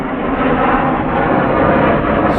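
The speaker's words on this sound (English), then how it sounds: "more planes going overhead" Airplanes flying overhead in formation produce a loud, continuous engine drone that holds steady throughout, with no talking.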